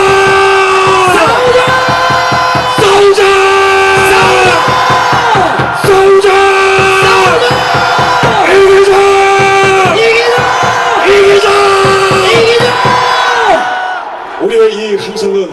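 A large rally crowd at a Save Korea gathering near Dongdaegu Station in Daegu chants and shouts in loud, rhythmic unison bursts, repeating steadily for about fourteen seconds before trailing off.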